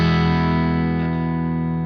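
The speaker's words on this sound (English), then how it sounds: "now we're going to have a very, very light distortion" A very light, low-gain distortion from an Empress Zoia effects patch colours a single sustained chord, which rings out with a subtle crunch and slowly decays.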